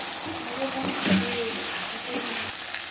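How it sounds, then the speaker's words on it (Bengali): Eggplant fried until reddish sizzles steadily in hot oil while ginger-cumin paste is stirred in, with soft scraping and a few faint clinks over the constant frying hiss. "আদা জিরা বাটাটা দিয়ে এখন আমি নেড়ে নেব।"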